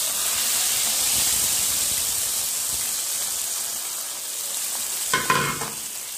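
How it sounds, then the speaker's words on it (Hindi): Ghee tempering for kadhi sizzles in a pan as a steady, moderately loud frying hiss, with a brief burst of crackling near the end and no talk. "कढ़ी को हम तड़का लगाने लगे, जो घी बचा था वो"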